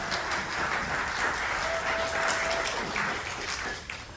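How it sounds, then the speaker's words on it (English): Audience applause for panelists at an entertainment presentation about the Disney Wish cruise ship, a steady, moderately distant wash of many hands clapping throughout, with no clear talk over it. "How about a big round of applause for all of our panelists today?"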